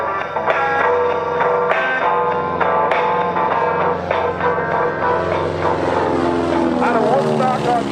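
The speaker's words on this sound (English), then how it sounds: "The C-45 Smokeshow, we like to call it, on the takeoff roll." A Beechcraft C-45 propeller airplane on its takeoff roll at an airshow gives a loud, steady, droning engine roar with shifting tones, and a voice seems to talk over it throughout.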